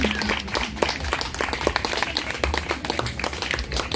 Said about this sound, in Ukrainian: Оплески трошечки, ще трошечки.